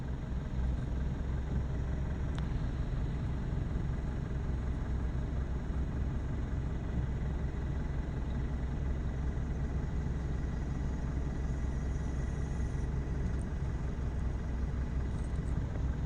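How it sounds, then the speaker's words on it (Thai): Rainy-season rush-hour traffic jam on a road by a market in Thailand: a steady, continuous rumble of many idling and creeping engines, moderately close and unbroken throughout. "ช่วงฝนก็จะรถติดรถเยอะ อย่างนี้นะพี่น้อง เข้างานเลิกงาน รถติด"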